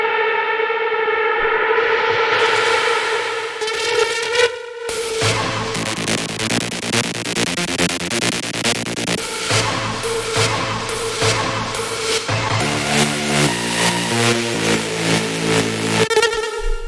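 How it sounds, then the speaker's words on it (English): Synth sequence in an electronic music track, opening with a rising, siren-like sustained synth tone, then a brief cut into loud, rhythmic pulsing distorted synth notes over a steady beat, with no voices. "And then we have the synth sequence."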